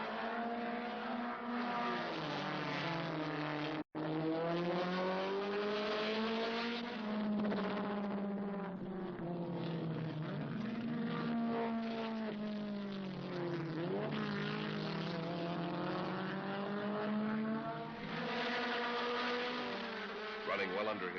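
1971 Trans Am race cars, including an Alfa Romeo and a Datsun 510, lap Laguna Seca with a loud, continuous engine roar that rises and falls through gear changes and corners, broken by one abrupt cut-out.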